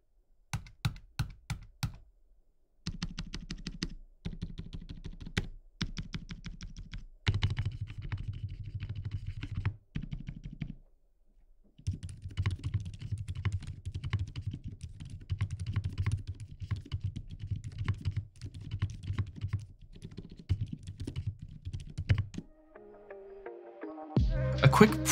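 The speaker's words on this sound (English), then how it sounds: "I want you to hear every microfiber and drip from this keyboard and ultimately share in my love of sound." Typing on a custom NK65 Entry Edition keyboard built with silent switches, a soft muffled patter of keystrokes in bursts with brief pauses, close and steady, ending with a few heavier thocks.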